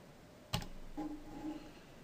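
Coordinates are typed on a computer keyboard during AutoCAD drafting: one sharp, close key click followed by a few softer taps, quiet and alone in a still room.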